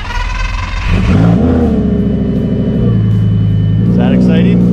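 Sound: Lamborghini Gallardo engine cold start

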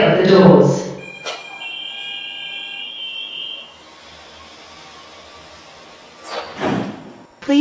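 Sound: airport transit train doors closing

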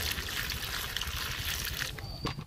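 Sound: washing eggplant with water in a wok

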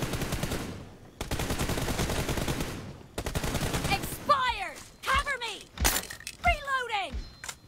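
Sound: gunfire in a video game

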